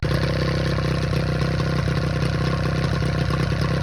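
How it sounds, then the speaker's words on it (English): A small outboard motor runs steadily on flush muffs at a constant idle, a loud continuous mechanical chug with light clatter and no pauses. "I hooked it up to some muffs to make sure that the outboard would pump water"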